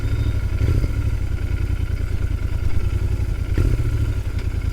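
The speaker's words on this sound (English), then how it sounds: "this exhaust note will keep you entertained on all your rides for sure" A Royal Enfield GT650 parallel-twin motorcycle rumbles steadily while being ridden, its loud, continuous low exhaust note swelling in two brief surges of throttle, with no voices present.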